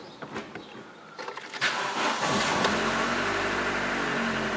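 A 1998 Chevrolet Vectra GLS car engine cranks briefly, catches and settles into a steady idle, heard close and fairly loud with a smooth, even hum.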